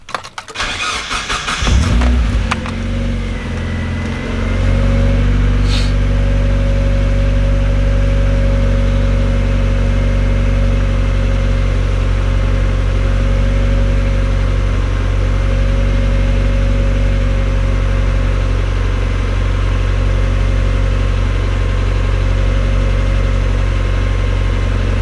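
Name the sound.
Mazda Miata NB engine cold starting and idling high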